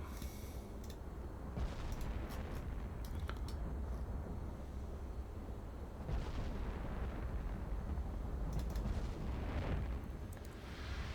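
Naval cannons boom in a sailing-ship battle game as Nelson opens fire, heavy rumbling broadsides rolling one after another in loud bursts with a dense roar between shots.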